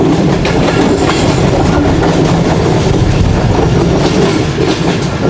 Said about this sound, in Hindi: नीचे तक उतरती हुई हमारी कराकरम एक्सप्रेस